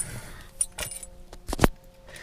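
Car keys for a Ferrari 458 Italia jangle in a few short metallic bursts, the loudest near the end, close and alone with faint background hum.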